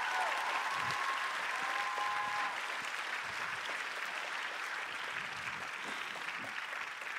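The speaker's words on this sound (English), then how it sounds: "Y'all need to make sure you clap for them." A school choir concert audience applauds the accompanists with steady, dense clapping from a crowd indoors, holding at an even level for several seconds with no clear speech over it.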